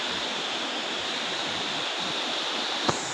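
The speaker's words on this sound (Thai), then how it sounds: "น้ำตก" A natural waterfall roars in a steady, unbroken wash of rushing water, loud and close, with one brief knock near the end and no voices.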